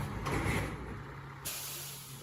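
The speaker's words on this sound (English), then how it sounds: "Pulls the brakes, steps on the throttle." Loud, close hiss of a Peterbilt truck's air brakes being pulled, a sustained burst of released air that drops off sharply midway and then continues as a steady softer hiss.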